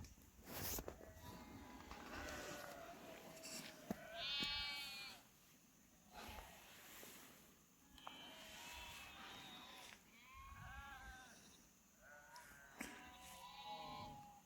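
Sheep in a flock grazing on a hillside bleat repeatedly, several overlapping calls coming and going at moderate distance over quiet outdoor ambience with faint footsteps.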